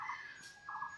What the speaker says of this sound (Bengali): সুন্দরী পাখি তো চতুর্দিকে ডাকছে।